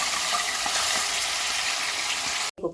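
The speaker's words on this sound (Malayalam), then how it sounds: "നല്ല വാഷ് ചെയ്ത് വെച്ച മട്ടനാണ്. നന്നായി ഒന്ന് മുരിച്ചിട്ട് എടുക്കാം. മട്ടൺ ഓയിലിട്ടിട്ട്" Washed mutton fries in oil in a pan, a dense, even sizzle that holds steady and close before cutting off abruptly near the end, with no voices.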